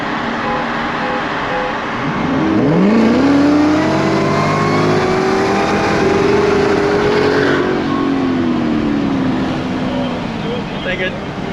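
A Chevrolet Corvette C7 Z06 accelerating at full throttle, heard from inside with the engine note climbing steadily through a gear, holding high and loud, then easing off near the end.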